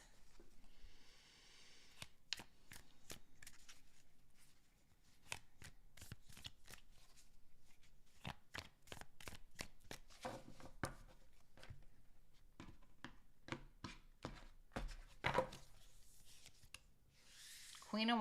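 Tarot cards are shuffled by hand in a quiet room, giving quick, crisp riffles and slaps in uneven bursts, with a brief rustle at the start and end.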